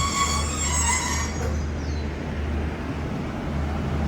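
Express train 85 rolls into Surat Thani station in Thailand with a steady low rumble of wheels on rail. High metallic squeals fade early on and the sound stays continuous and fairly close.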